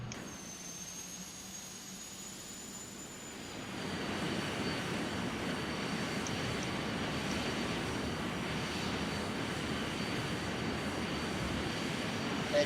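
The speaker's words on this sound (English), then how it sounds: "Let's taxi off the other end. Go slow when you're taxiing." Simulated aircraft taxiing in Microsoft Flight Simulator X, a steady engine whine and hum that grows louder after a few seconds and then holds a constant, even drone.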